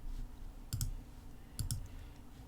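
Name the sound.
keyboard key press, Shift+A in Figma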